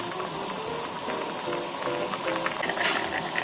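A pot of Korean pork soft tofu stew (sundubu-jjigae) with egg bubbles and hisses on the stove with a constant steamy rush, small gurgles and pops scattered through it, close and steady.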